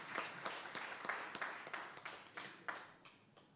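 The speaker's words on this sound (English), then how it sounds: "I think this deserves to be given a round of applause" Quiet, scattered clapping from an audience at a University of Venda ceremony formalising a partnership with traditional councils, with distinct claps that thin out and fade toward the end.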